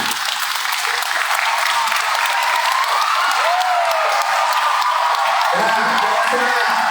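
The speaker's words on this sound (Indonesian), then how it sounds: "Ini layak juga kasih tepuk tangan untuk mama kalian ini." Loud, sustained applause from a large crowd fills the room, with a few voices and whoops rising over the clapping.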